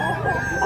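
A bullstag rooster crows up close in one short, loud, strained call that is cut off almost at once, with voices nearby.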